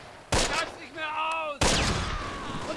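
Mortar and gunfire in the wartime strategy game Close Combat, set at Arnhem: two loud, close explosive blasts with a whining, pitched tone between them and ringing decay afterward.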